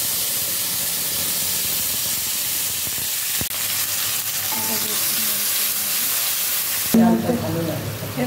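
Tomatoes and a bay leaf hitting hot oil, giving a loud, continuous sizzle and fry with a fresh burst of spattering near the end.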